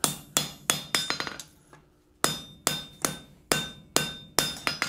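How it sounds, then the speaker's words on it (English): A hammer drives a drift into hot steel at the forge, ringing out about a dozen sharp, loud metallic strikes in a steady rhythm, with one brief pause partway through. "Drive that drift in a bit more."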